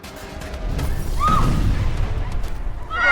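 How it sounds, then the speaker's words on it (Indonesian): A loud, rumbling blast with crashing debris, sustained low roar filling the space, followed by a rising burst of noise at the end. "Itu suara ledakan."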